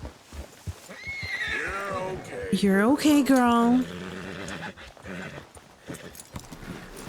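A mare in Red Dead Redemption 2 lets out a loud, close, drawn-out whinny that rises and falls for about a second, with hooves clopping and someone speaking before and after.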